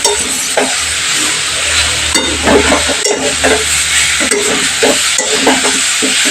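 Broccoli fries in a pan of oil with masala, a constant sizzle broken by repeated scraping and clattering strokes of a spatula stirring it close up.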